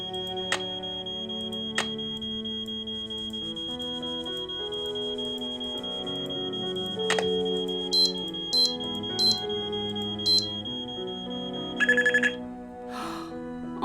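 An alarm sounds in the video game Nancy Drew: Treasure in the Royal Tower, a steady high electronic tone held over a layered musical bed, broken by repeated short beeps and sharp hits toward the end.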